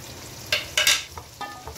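Garlic, ginger and green chili hit hot oil for zeera rice, sizzling in a few short, loud bursts as a spoon stirs them, close up, with no voices.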